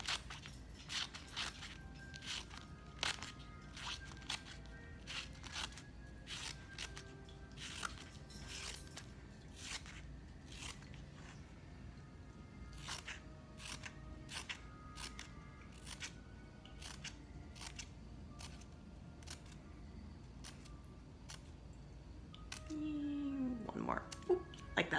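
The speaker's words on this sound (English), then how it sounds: "you can keep cutting, but just make sure to leave the middle uncut so you don't accidentally" Scissors snip repeatedly through paper to cut a craft paper quill, a steady run of crisp, close cuts followed by a brief rustle of paper handling at the end.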